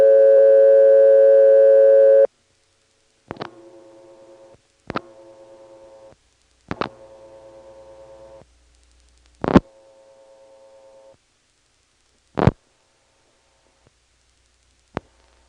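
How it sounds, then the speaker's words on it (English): An off-frequency telephone company test tone from a 1977 phone line recording holds steady for about two seconds, then gives way to sharp clicks and shorter, quieter tone segments. "Here's a phone company test tone, which is off frequency, by the way."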